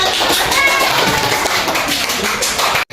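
A classroom of children claps for a student in an elementary maths lesson, a dense continuous burst of applause lasting about three seconds before cutting off abruptly.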